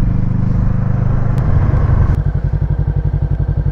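A 2021 Voge 500 DS motorcycle engine idles loud and close, its steady rumble shifting partway through into a clear, regular pulsing chug with light mechanical clatter.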